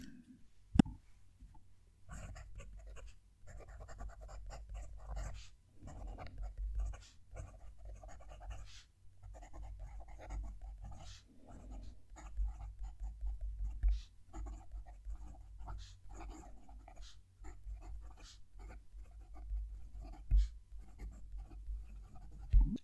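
A Benu Talisman fountain pen nib writing on paper, giving soft, close scratching strokes in uneven bursts for over twenty seconds, with quiet pauses between words.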